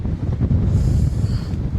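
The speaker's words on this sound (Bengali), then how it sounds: "আজকে একটু বাতাসটা বাড়তি" Strong coastal wind at Teknaf roars and buffets against the microphone in a continuous, loud rush with no talk.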